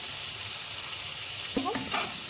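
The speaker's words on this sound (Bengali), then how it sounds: "কাঁচা টমেটোটা তেলের মধ্যে ভাজা হচ্ছে" Green tomatoes fry in hot oil for a village-style katla fish tel jhal, giving a steady close hiss and sizzle throughout, with a brief voice speaking near the end.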